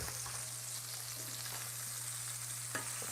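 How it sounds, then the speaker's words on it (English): Lamb chops searing in a pan give a steady, even sizzle with a low hum underneath and one small knock near the end. "I got to pay attention to those lamb chops behind me, because we want to sear, but we don't want them to burn up."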